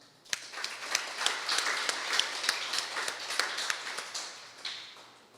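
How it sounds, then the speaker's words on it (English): A seated audience at a book presentation gives steady applause, with distinct nearby claps standing out over a softer crowd of hands before it tapers off. "So I believe we need to give a round of applause to the family of Dom Basil Matthews."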